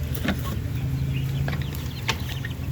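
Month-old Darag native chickens on a farm give several short, scattered clucks and chirps over a steady low background hum, fairly close and moderately loud.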